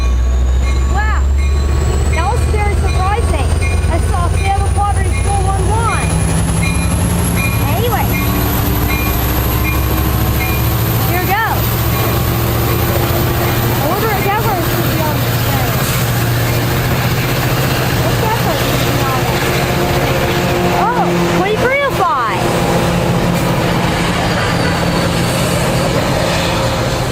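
A Coaster F59PHI passenger locomotive rumbles loudly close by, with a rising whine and squeaks and clatter from the cars throughout.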